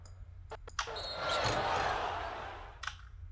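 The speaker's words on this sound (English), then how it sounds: "we have a pretty audible rim hit" Basketball striking the rim in a sports hype edit: a sharp clang near the start, then a broad whooshing swell of crowd-like noise that fades, with another brief hit near the end.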